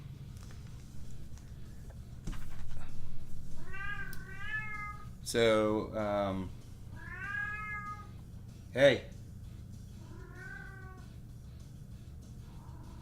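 A pet cat meows repeatedly, several drawn-out, fairly close calls spread over the span, with a person briefly speaking and low background hum.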